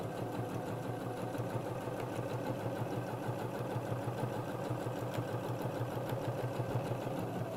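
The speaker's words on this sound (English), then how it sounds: "I'm going to sew all the way around that box" A sewing machine stitching steadily around the edge of a letterbox zip opening, a fast even mechanical whirr and chatter of the needle that runs unbroken and fairly quiet, with no voices.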